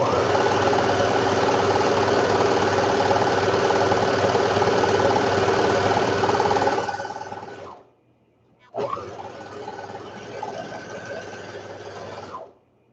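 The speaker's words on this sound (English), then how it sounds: "I've serged from the point in the crotch all the way down" A serger runs fast stitching a seam on kids' lounge pants, a steady loud mechanical whir for about seven seconds, a brief pause, then another continuous run of similar length.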